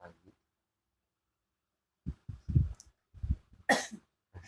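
A child with a sore throat coughs in a few short, rough bursts, fairly close, including a harsher hacking cough near the end, with quiet gaps between.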